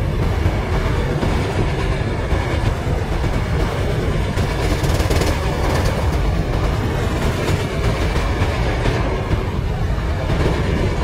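The Nizamuddin Rajdhani Express picks up speed on the Chennai Egmore to Arakonam main line, a loud, steady rumble with rhythmic clickety-clack of wheels over rail joints and occasional high squeals.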